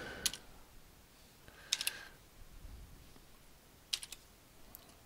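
Computer keyboard typing while entering a spreadsheet formula: short, crisp clusters of quick key clicks in three separate bursts, close and fairly quiet against a soft background hiss, with no talking.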